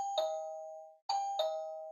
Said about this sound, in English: It rings our chime just fine.